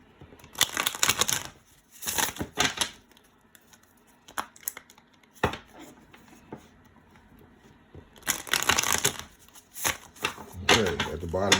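A tarot deck getting a good shuffle, repeated crisp riffles and card flutters in distinct bursts with brief quiet gaps between, close to the listener.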